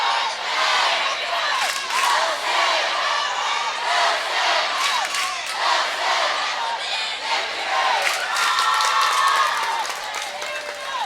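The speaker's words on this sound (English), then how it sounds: "We'll let you just listen to the crowd here." Crowd at an indoor natatorium cheering, whooping and yelling throughout a boys' water polo state championship game, a loud continuous roar with rising and falling surges and scattered claps.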